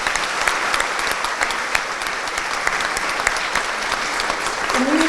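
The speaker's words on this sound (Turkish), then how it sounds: "ben en büyük alkışları beraber istiyorum aslında" A large audience at a medical school white coat ceremony applauds loudly and continuously, dense clapping filling the room with a few sharper individual claps standing out.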